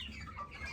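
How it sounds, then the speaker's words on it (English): A pet hen squawks loudly and close throughout in a dense, harsh, noisy burst, with a continuous rasping texture and no separate notes. "It is a she, my bad. This one's a hen."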